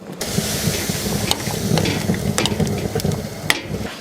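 Ukrainian dumplings with filling dropped and stirred into a simmering pot of clear Lenten borscht; steady bubbling and sizzling hiss with intermittent sharp clinks of a utensil against the pot, continuous and fairly close, no voices.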